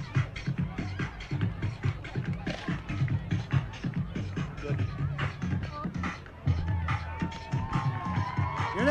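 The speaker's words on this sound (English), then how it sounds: "Nice hands from the crowd." Crowd cheering and clapping along a parade route as the South Shore Drill Team passes, a dense, steady roar of voices and hands with a few shouts, heard from within the crowd.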